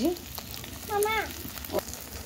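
Egg omelette frying in a pan: a steady, soft sizzle runs through the whole stretch, with a few brief tonal sounds rising over it.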